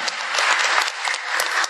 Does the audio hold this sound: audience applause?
yes